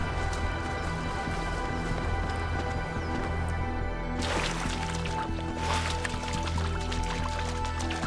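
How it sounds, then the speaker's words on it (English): Water drips and pours continuously in The Talos Principle 2, a dense liquid splashing with scattered drip sounds layered over a steady ambient game hum, constant and fairly loud throughout. "Why is there water here?"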